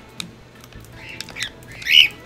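A pet bird squawks in short sharp bursts, building to one loud shrill squawk near the end, close to the microphone with no talking.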